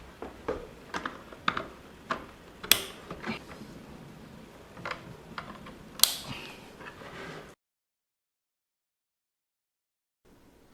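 Cables plugged into ports on a TP-Link Archer A6 router, a series of short plastic clicks and rattles, fairly close, followed by silence.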